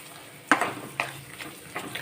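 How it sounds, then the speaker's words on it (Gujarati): Fried edible gum is stirred into roasted flour in a pan for Gujarati sukhdi: three or four distinct scraping strokes with light metal clinks over a low, faint sizzle, close up and without speech. "જે આપણે તળેલો ગુણ છે તેને આપણે એડ કરી દઈશું અને સરસ રીતે મિક્સ કરી લઈશું"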